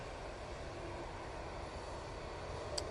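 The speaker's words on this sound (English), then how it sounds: "We have another prop on final coming in from Dublin." A propeller airliner on final approach, inbound from Dublin, heard as a steady, distant engine drone with a faint hum that stays even throughout.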